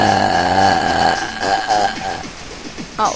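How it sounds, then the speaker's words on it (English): A woman lets out a long, drawn-out burp to expel air, a voiced rumble lasting about a second that trails into rougher, broken gurgling, followed by a short second burst at the end. "I'll do another long burp just to get all this air out of me."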